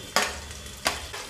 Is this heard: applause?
no